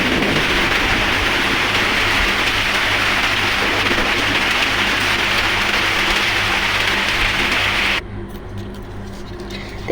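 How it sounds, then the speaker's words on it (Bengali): Heavy rain pours down in a loud, steady hiss that barely changes, easing slightly toward the end. "এত পরিমাণে বৃষ্টি নামতেছে"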